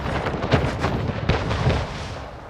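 Cannon fire from harbor defense towers in the Anno 1800 strategy game, heard as several booming, overlapping shots in quick succession over a dense, rumbling battle din.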